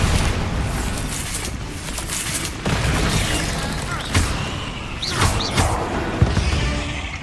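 A Bombarda spell blasts in Hogwarts Legacy, a dense rumbling burst with crumbling debris and scattered pops, fairly loud, followed by lighter clattering impacts.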